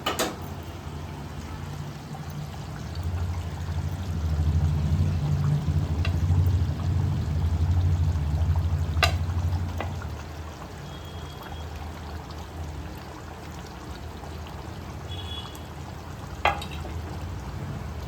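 Boiled eggs being added to a Kerala-style roasted-coconut egg curry gravy and stirred, a soft wet bubbling and stirring rumble that swells then fades, with a few faint clinks, no talk.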